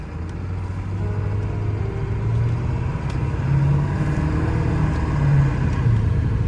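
A Ford F-250 XLT pickup with the 7.3L Power Stroke diesel engine driving under throttle, a steady low rumble that swells slightly as it accelerates, close and continuous with no talking.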